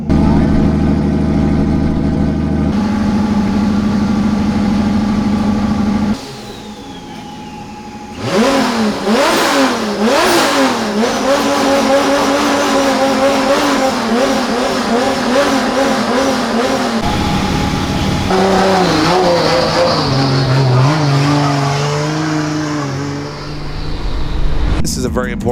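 A drift race car at the LZ World Tour, its engine revving hard in rising and falling sweeps with some squealing noise, near and loud. A commentator talks over parts of it.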